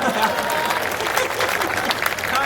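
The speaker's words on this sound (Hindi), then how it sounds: "समझ गए, एक बार ताली बजा दो" An audience at an all-India Hindi poetry gathering claps steadily, a dense wash of hands at moderate volume with a faint crowd murmur and some speech running beneath it.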